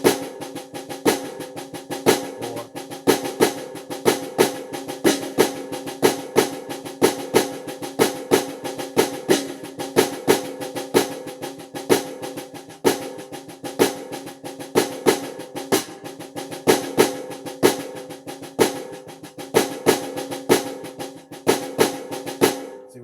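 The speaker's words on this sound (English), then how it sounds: "I just did the one accent, still all double paradiddles." Accented double paradiddles played on a drum in a drum lesson, a steady rapid stream of strokes with regular louder accent hits repeating throughout, close and alone with no talking.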